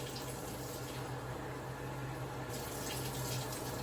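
Steady, loud rush of about three cups of water pouring into a pot on high heat for Puerto Rican yellow rice, continuous and close without any talking.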